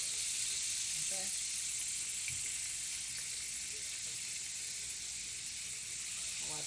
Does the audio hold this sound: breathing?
no